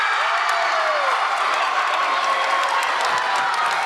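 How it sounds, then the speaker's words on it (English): A school gym crowd at a close match between Heritage and Quentin Road cheers and claps in a steady, loud, echoing roar that holds at an even level throughout. "The crowd is going wild."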